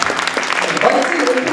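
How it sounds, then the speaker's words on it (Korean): An awards-ceremony audience applauding the Happy Senior Awards honorees, a dense loud wash of many hands clapping together close by, with voices mixed in underneath. "박수 부탁드립니다."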